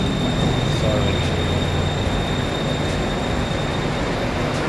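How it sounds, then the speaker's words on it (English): Inside a Bangkok SkyTrain during a ride, a steady, close rail rumble and rolling hum fill the carriage without a break. "We're on the SkyTrain right now."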